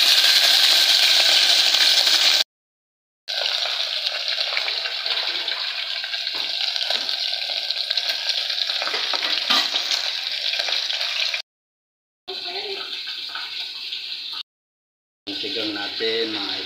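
Fish tails and heads sizzle and crackle as they fry in hot oil in a pan, a continuous bright frying hiss broken by a few brief silent gaps, with faint stirring sounds.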